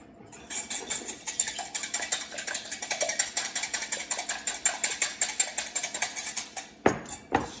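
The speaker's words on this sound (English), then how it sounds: "And you're going to whisk them up." Three room-temperature eggs whisked by hand in a bowl for a caramel pecan cheesecake pie, a steady rapid clatter of metal against the bowl lasting several seconds, close and fairly loud, ending with a couple of sharper knocks.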